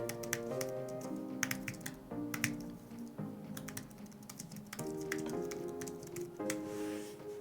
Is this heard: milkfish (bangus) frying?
no